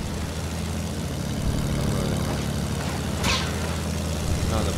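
A propeller airplane drones steadily overhead in Fortnite, a continuous low engine hum holding across the whole stretch, with a brief whooshing swell near the end.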